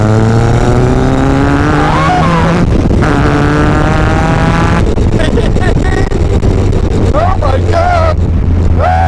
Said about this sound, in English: This sounds like a race car.